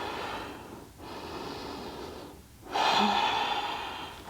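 Deep yoga breathing comes through as long, airy breaths, two drawn-out exhales separated by brief pauses and then a louder, fuller breath, close and steady, with no speech.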